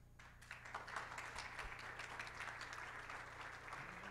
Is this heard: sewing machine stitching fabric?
no